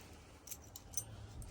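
A ring of keys jingles softly in short clinks while someone hunts for the right key during work on old Ford F-250 pickups, faint against a low hum.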